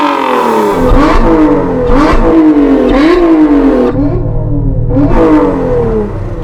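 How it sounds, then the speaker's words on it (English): A supercharged V6 car engine revs hard through several rising and falling sweeps, loud and close, with a brief deeper idle between pulls and no talking. "Let's have a listen to your supercharged V6."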